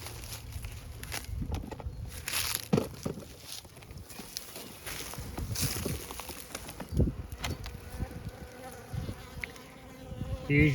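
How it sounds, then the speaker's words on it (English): Honeybees hum and buzz steadily inside a five-frame nuc box holding frames of brood, honey and a queen, a close, continuous drone with occasional louder swells and light knocks or handling noises, with no talk. "5 frames full of bees and brood and honey and the queen."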